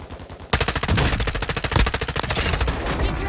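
Rapid automatic gunfire from Warzone 2 battle-royale gameplay, loud and close, with sustained bursts that rattle continuously for several seconds after a short quiet start.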